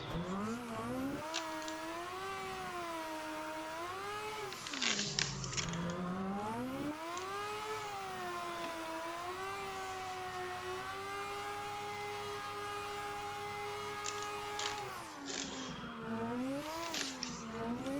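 A Mazda RX7 race car engine screams through corners in second gear at high revs, its pitch rising and falling continuously as the driver works through the S-bends, loud and close from inside the car.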